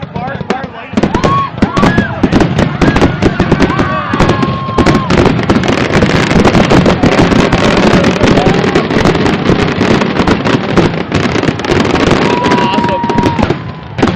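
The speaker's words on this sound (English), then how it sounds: "Best fireworks ever!" A fireworks display in Negaunee in 2010 bursts in a dense, continuous barrage of loud booms and crackles with no pauses, while people talk and cheer nearby.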